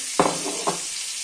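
Onion frying in a pan gives a steady hiss of sizzling, broken by two brief louder clacks of stirring, with no voices over it.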